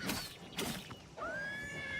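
A horse in Oblivion, whinnying briefly and then letting out a long, clear, high neigh that holds steady near the end, fairly close and alone.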